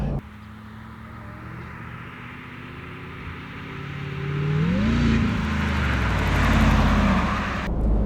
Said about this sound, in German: ich gebe mal Gas noch mal ein bisschen